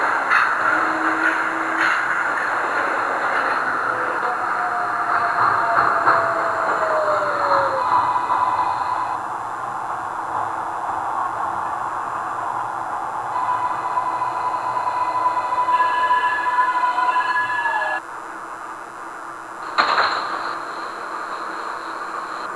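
Crosstown 9 local subway train running in the OpenBVE train simulator game, a steady rolling hum with tonal whines rising and falling and a brief clunk near the end.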